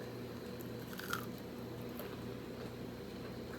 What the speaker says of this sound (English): I just wanted to show you guys how crispy this comes out with the cornmeal